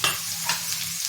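Onions, turmeric and salt stirred in hot oil for egg fry, a brief close sizzle with a couple of soft spatula scrapes.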